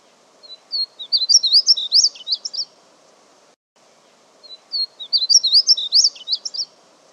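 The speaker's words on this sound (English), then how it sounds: "the painted bunting song is overall a little less organized" Two bursts of bright, jumbled warbling painted bunting song, each about three seconds long, separated by a short pause, clear and fairly close.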